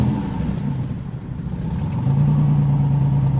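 A van engine runs nearby with a low steady rumble that dips briefly, then settles into a louder, even hum.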